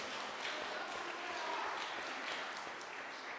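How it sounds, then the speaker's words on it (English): A church congregation gives a round of applause during a worship service. The clapping is dense and even and holds at a moderate level for about three seconds. "Can we give a round of applause to all these guys?"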